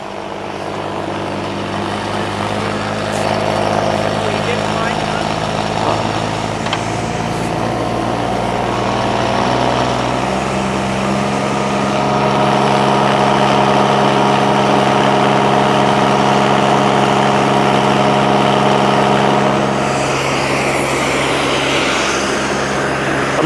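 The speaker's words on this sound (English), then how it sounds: "I'm gonna rev it up." A Kubota diesel engine on a cold water trailer jetter rated 12 GPM at 4,000 PSI roars loudly and continuously nearby, its tone shifting and climbing as it revs up from idle, with no talking.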